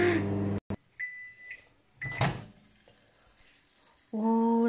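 A microwave oven running to melt Babybel cheese in a dish, with a steady hum and beeps at the start, brief clatter midway, then a loud tonal hum rising again near the end.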